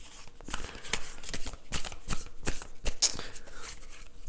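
Tarot cards being shuffled for a Libra reading, a continuous, close run of papery riffling and slapping flutters lasting several seconds, without speech.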